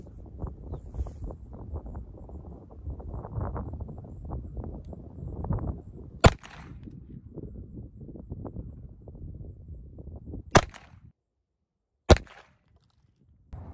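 A Crvena Zastava M70 police pistol fires three sharp shots outdoors, spaced several seconds apart, loud cracks over a background of wind rumble that drops to near silence after the second shot.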